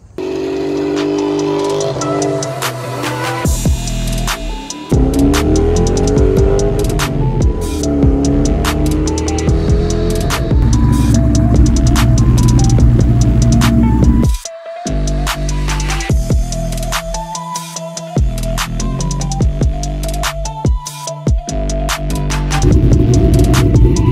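A car idling with its tailpipes removed so the exhaust exits through open dumps, giving a loud, steady throbbing rumble with a deep hum, short dips and occasional blips, close by with no talk.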